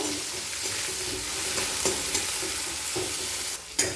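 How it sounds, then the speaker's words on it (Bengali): Chopped green chilli and onion frying in hot oil, a loud, continuous close-up sizzle with occasional spatula scrapes and stirring knocks, no voices. "প্রথমে কাঁচা লঙ্কা কুচি দিয়ে দিলাম তারপর পেঁয়াজ কুচি দিয়ে দিলাম তেলের মধ্যে নাড়াচাড়া করে নেব"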